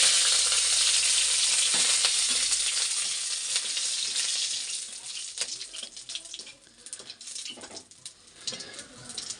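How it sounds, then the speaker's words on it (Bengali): Dry red chillies, bay leaves and cumin hit hot oil for a tempering, giving a loud, dense sizzle and spatter that eases after a few seconds into softer crackling and popping. "এখন আমি তেলের মধ্যে এই যে শুকনো লঙ্কা, তেজপাতা আর জিরে এটা ফোড়ন দেব।"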